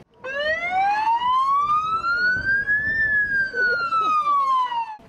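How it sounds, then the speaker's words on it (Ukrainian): A police patrol car's siren switched on at a street event in central Khmelnytskyi: a loud, close wail that sweeps steadily upward in pitch and then glides back down, continuous throughout with faint background crowd noise. "А тут посидіти в машині патрульних та увімкнути сирену."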